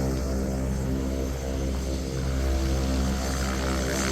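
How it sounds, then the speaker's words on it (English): A small propeller bush plane drones overhead during an Alaska caribou hunt, giving a steady, loud engine hum that holds fairly level as it flies off. "There goes our plane."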